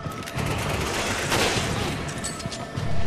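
Rapid gunfire from the co-op shooter Resident Evil 5, a dense continuous fusillade of shots running loud for about three seconds with game ambience underneath.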